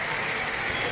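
A cricket crowd applauding steadily at the close of the 5th Ashes Test between Australia and England, a dense wash of clapping under a radio commentator talking.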